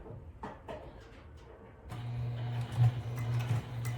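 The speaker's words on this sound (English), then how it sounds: "I'm going to start to sew" Sewing machine stitching around the edge of a round fabric bag, starting after a few soft handling taps and then running as a steady motor whir with a faint rhythmic clatter, close and alone.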